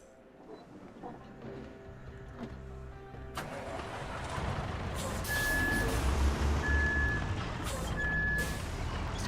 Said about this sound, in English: It's got a loud backup beeper though.